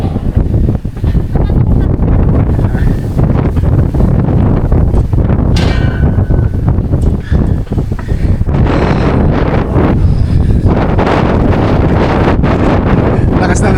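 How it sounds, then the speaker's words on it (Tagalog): Strong wind at the summit of Diamond Head, Hawaii, buffets the microphone continuously with loud low rumbling gusts, while a voice talks intermittently underneath. "Lakas na hangin."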